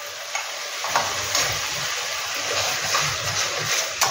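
Ginger paste frying in a pan over a medium flame for a homemade Bengali katla rezala, a dense continuous sizzle with occasional stirring scrapes, fairly loud and close, with no talking.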